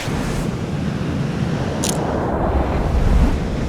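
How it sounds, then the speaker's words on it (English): Big sea waves roll in an ocean ambience, a broad continuous roar and wash that swells slightly toward the end, with a brief bright splash near the middle and no voices. "I have these big sea waves blowing, and in between I have an overflow ocean beach sea waves crashing"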